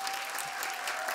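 Studio audience applause during a French music interview, a dense, even wash of clapping heard briefly and fairly softly on its own.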